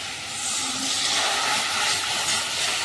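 Boiled moong dal with papaya hits a hot spice tempering of chilli and turmeric, raising a loud, continuous hissing sizzle that holds steady for several seconds without talk.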